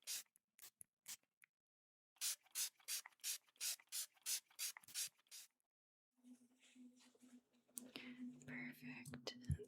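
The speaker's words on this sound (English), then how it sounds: "I'm gonna spray some water." Quick, sharp hisses of a spray bottle spraying water in bursts during a haircut at a barber shop, close up, followed by soft rustling and handling noises.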